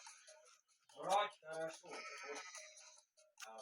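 A goat bleats in several short, wavering calls with brief gaps, fairly close and clear, a sound effect in the game Payday.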